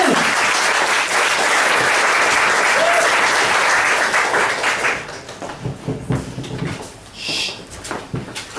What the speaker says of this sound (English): a big, massive round of applause,